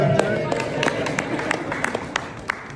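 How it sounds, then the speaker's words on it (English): A crowd applauds a man named Derek for designing a railroad club logo at a student tennis support event, with scattered sharp claps over a steady murmur of voices. "Big round of applause to Derek"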